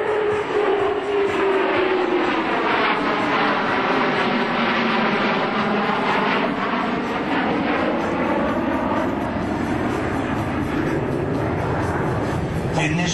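F-15 Eagle fighter jets approach for landing at a US Air Force demonstration in Alaska, a loud, continuous jet engine roar with a shifting whine that fills the whole stretch.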